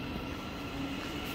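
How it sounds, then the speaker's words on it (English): A Thameslink Great Northern train rumbles past at Potters Bar station on the East Coast Main Line, a steady, faint, distant rolling noise throughout. "15:19 Thameslink Great Northern service to Moorgate, as the 15 early morning 15:15 to Hitchin departs."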